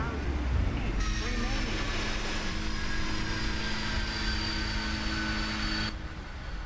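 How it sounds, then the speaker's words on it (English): Boeing 747 in the Prepar3D flight simulator after touchdown at Honolulu, a steady loud jet engine roar with tonal whine that drops off near the end, with no one talking. "Okay, somehow I managed to land the aircraft."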